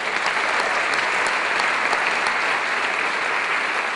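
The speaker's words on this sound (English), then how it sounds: "One more round of applause for all of them." Steady audience applause: many hands clapping together without a break, filling the whole stretch.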